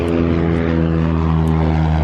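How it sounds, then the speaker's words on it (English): A propeller plane with a wooden prop passes at a car and aircraft show, a loud, close, steady engine drone with a strong buzzing propeller hum throughout. "There goes the plane."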